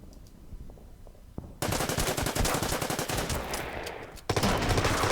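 Dense rattling machine gun fire from a fortified MG position in the Order of Battle Pacific game, Betio Island battle, bursting loud after a quieter start and rising louder again near the end, with no talk.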